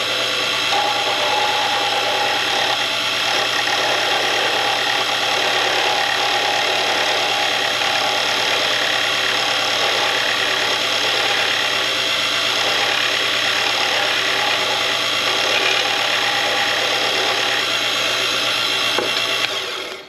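A steady, dense mechanical whirr of a power tool works a Dakota burl pen blank, trimming away excess glue, running continuously and close for the whole stretch with no voices.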